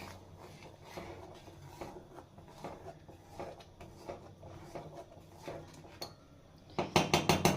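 A spoon scrapes and clinks against a metal pot while dal tarka with a handful of coriander is stirred, soft rhythmic knocks and scrapes that grow into louder, rapid clatter at the end.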